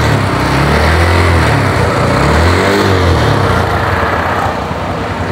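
A TVS Apache motorcycle engine idles close by, a loud, steady throbbing hum that runs without a break and eases slightly near the end, with no voices.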